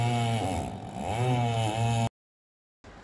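A 120cc 8.5 horsepower two-stroke chainsaw engine, powering a Thai longtail boat build, revs loudly, the pitch wavering up and down, then cuts out abruptly before briefly starting again.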